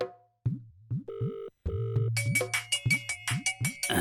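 A mobile phone ringtone for an incoming call, a melodic electronic tune of repeating short tones that grows busier, loud and close, with no talk.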